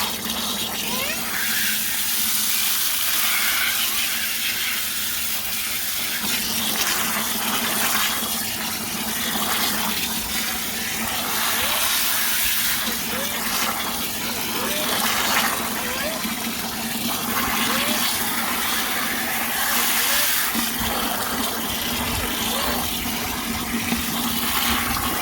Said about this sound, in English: I might put it on jet so it really forces the water into it.